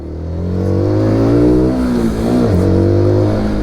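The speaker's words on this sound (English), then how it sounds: "you open the throttle, full throttle." A SYM NH-X 125 motorcycle's 125cc engine screams at full throttle, pitch climbing steadily through a gear, dipping briefly at a shift, then rising again, loud and close with no talking.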